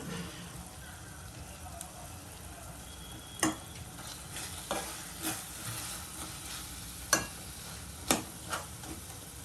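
Dry fish curry simmers in a pan as curry leaves go in, giving a soft steady sizzle with a few sharp pops and crackles scattered through it.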